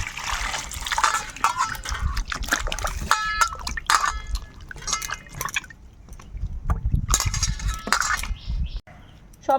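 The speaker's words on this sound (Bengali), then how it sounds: "এবার সবজিগুলো আমি ভালো করে একটু ধুয়ে নেবো" Vegetables are rinsed under running water in a home kitchen, with splashing, dripping and occasional clinks of produce against a bowl or sink, close and uneven in bursts.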